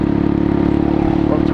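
A motorcycle engine running steadily and loudly up close while riding, a constant low throbbing drone with wind noise and no clear revving.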